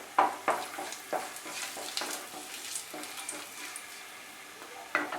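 Two large chopped onions fry in oil with crushed whole garam masala over medium heat for a yogurt chicken curry, a soft steady sizzle broken by sharp clinks and scrapes of a spatula against the pan.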